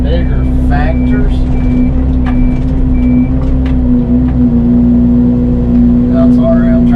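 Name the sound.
Fecon mulcher head running on a mini excavator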